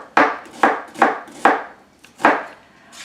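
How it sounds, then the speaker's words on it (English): A knife dices scallions on a cutting board, giving six crisp, evenly spaced chops, each with a sharp attack and short decay, close and clear with no talking. "I also have 3 scallions that I'm dicing up to put in my bowl"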